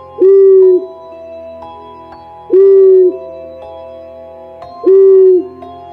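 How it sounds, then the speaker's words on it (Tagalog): An owl gives three long, loud hoots, evenly spaced about two seconds apart, each a steady held tone with an echoing ring, set as an eerie horror sound effect with nothing else heard. "muling sumigaw si Luna, isang mahabang huni na nagpagalaw sa hangin"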